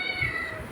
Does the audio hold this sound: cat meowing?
yes